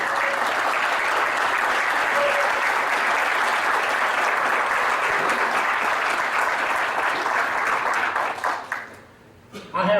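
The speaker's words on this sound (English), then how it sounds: "asking them to stand and asking you to give them your applause." An audience at the 2019 Sports Hall of Fame event gives sustained, loud applause in a hall for standing alumni association board members. The clapping stays dense and steady for about nine seconds, then quickly dies away.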